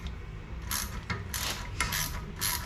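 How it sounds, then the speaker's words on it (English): A pass-through ratchet clicks in several short bursts of quick ratcheting, with brief pauses between strokes, close and fairly quiet, while working on a BMW E30. "This is a pass-through ratchet."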